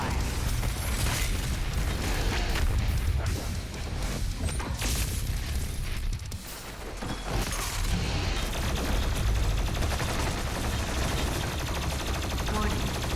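The BFG 10,000 firing in Doom Eternal: a dense, continuous roar of game explosions, booms and mechanical bursts, loud throughout, with a brief dip midway.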